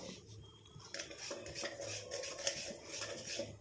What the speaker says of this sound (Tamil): கொஞ்சம் நல்லா இந்த மாதிரி மிக்ஸ் பண்ணி விட்டுக்கிட்டே இருக்கணும்